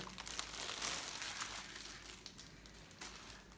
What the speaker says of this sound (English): So again this is a plastic cover. Let's take it out.